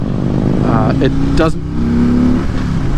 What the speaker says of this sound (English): The 114 is definitely a nice motor to have on these big touring bikes.